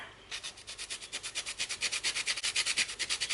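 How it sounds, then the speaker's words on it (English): Whole nutmeg rasps against a grater in quick, even strokes, about twenty close scrapes speeding up slightly, heard alone. "I think I might grate some more nutmeg in here"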